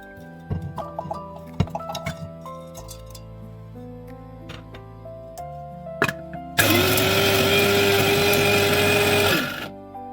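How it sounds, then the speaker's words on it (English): An electric grinder whirs through garlic, cinnamon sticks, cardamom and cloves to make a spice paste. Scattered clicks and clatter come first, then a loud, steady motor roar runs for about three seconds before cutting off. "I am going to use my grinder to grind everything well and make a paste."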